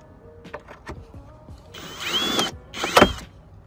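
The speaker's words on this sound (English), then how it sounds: "So let's switch this up and get a better drill bit so that I can drill into the body" A power drill bores into the steel body of a VW Beetle while retrofitted side skirts are fitted, with light handling clicks followed by two short, close, high-pitched whining bursts of drilling and no talk.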